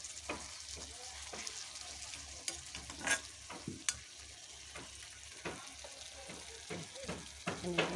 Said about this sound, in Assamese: মাছখিনি এতিয়া মই ইয়াতে টমেট' চচ আৰু চয়া চচ দি পেলাই এনেদৰে গ্ৰেভি কৰিলোঁ।